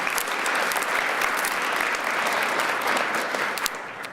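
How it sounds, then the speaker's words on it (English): A large audience at a civic design awards ceremony applauds steadily, a dense, even wash of many hands clapping together that holds at full strength for several seconds before starting to ease off. "Please give our selection committee a round of applause."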